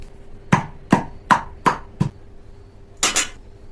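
Neem leaves pounded with the base of a drinking glass in a bowl give five sharp, close knocks at a steady rhythm, a short pause, then a heavier double thud, with no talking.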